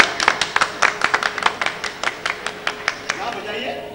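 Audience clapping at an Independence Day stage drama put on by an arts group in Kuwait. The claps are sharp, uneven and fairly close in a loose rhythm, thinning out toward the end.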